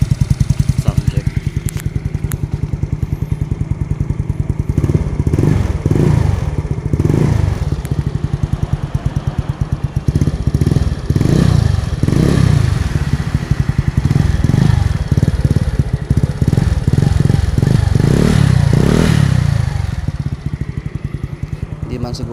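A Yamaha Mio Soul i125 scooter fitted with a new aftermarket exhaust pipe, its engine revved repeatedly in loud rising-and-falling bursts over a steady idle, close to the microphone, with a voice talking intermittently.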